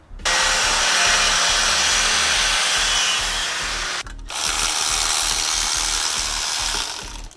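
A power tool cuts down a car exhaust stud, a loud, steady, high whining grind up close that stops briefly, then resumes for several more seconds before winding down.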